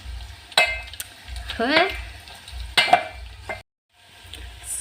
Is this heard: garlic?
yes